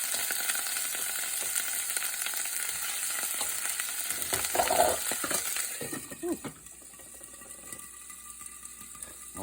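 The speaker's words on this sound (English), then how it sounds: "I'm gonna go ahead and sear this squirrel" Squirrel meat searing in bacon grease in a pan, a loud, close sizzle with crackling spatter that surges as the meat is laid in, then fades lower and quieter toward the end.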